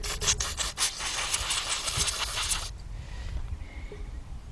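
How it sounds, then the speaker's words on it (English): Brisk rubbing and scrubbing on the tips of spark plugs from a 2003 Volkswagen Passat that runs rough, a steady close scraping rasp for about two and a half seconds, then stopping abruptly into quiet room noise. "I just want to clean up the tip of these spark plugs."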